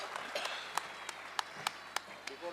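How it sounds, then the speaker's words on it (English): Sparse, scattered handclaps from an audience at a children's school annual function, a few sharp isolated claps over a quiet, faintly noisy hall. "So give a big round of applause to my lovely teachers."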